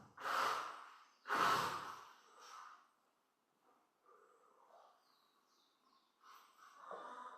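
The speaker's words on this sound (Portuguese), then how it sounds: "Põe ritmo na tua respiração." Slow, deep human breathing paced in a steady rhythm: two loud, close inhale-exhale surges at the start, then softer, quieter breaths trailing off in a calm room.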